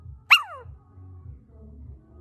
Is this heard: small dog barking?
yes